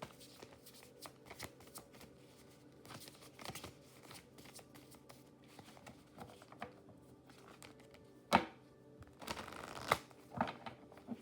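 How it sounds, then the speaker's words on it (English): Cards are shuffled in a series of soft riffling bursts, ending with a couple of louder sharp riffles, close and quiet. "Oh, that was an awful shuffle."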